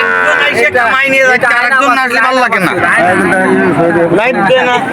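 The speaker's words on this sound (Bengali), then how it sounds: "বিভিন্ন রকমের গরু এখানে আছে" Calves and cattle low at a busy Betaga cattle market, with repeated moos close by mixed into a dense crowd of people talking.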